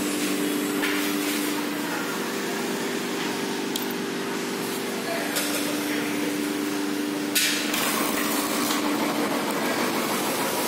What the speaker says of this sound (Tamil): ஸோ நீங்கள் பார்க்கலாம், அதை ஒரே கிக்கில் வண்டி ஸ்டார்ட் ஆயிடுச்சு